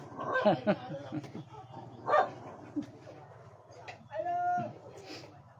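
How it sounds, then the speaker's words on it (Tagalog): A dog barks a few times at a distance, short separate yaps between quieter stretches with faint room noise. "Medyo maingay yung ating aso"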